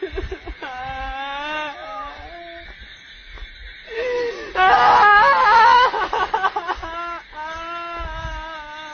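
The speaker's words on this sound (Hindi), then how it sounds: "उसी वीडियो में इस स्पिरिट के रोने की आवाज़ सुनाई दे रही है।" Eerie wailing and crying played back from a recording, drawn-out moaning tones that rise into a louder, harsher stretch of sobbing before trailing off again, fairly loud and not under talk.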